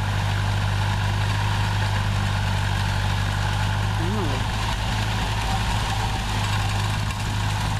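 A riding mower's engine hums steadily while it cuts grass up a bank, its loud, constant drone filling the scene with a brief voice or whistle-like sound partway through.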